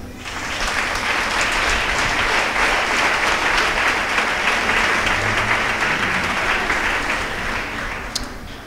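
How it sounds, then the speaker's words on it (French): A church congregation applauding, dense sustained clapping from many hands filling the room for several seconds before tapering off near the end. "On applaudit bon Dieu."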